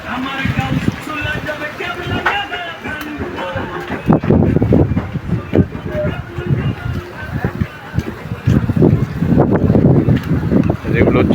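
Fishing trawlers on the water on a rainy day, heard as a steady rumbling wash with heavy wind buffeting the microphone throughout and uneven louder gusts.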